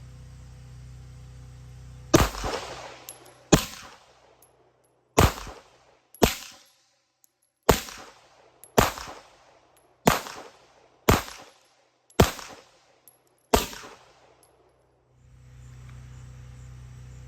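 A Rock Island Armory STK100 pistol fires ten sharp, loud shots in quick succession over about eleven seconds. Each report decays quickly, with a low outdoor hum before and after the string.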